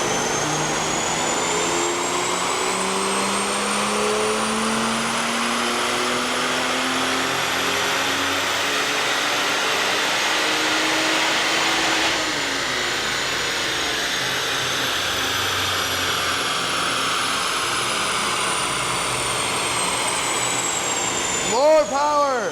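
A BMW E34 with a 3.7-litre M30 stroker inline-six pulls hard on a dyno, a loud steady roar with a rising engine tone for about twelve seconds, then a sustained high drone until a sharp sweep near the end.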